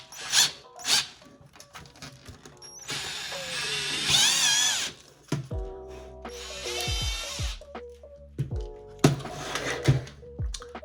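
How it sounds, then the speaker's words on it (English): A power drill with a drill bit bores a hole in a Neutrona Wand, its motor whining in several rising bursts separated by pauses, clicks and handling noises up close. "let's go ahead and get drilling"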